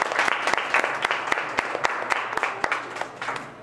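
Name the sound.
audience applause for poets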